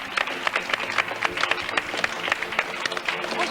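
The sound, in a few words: studio audience applause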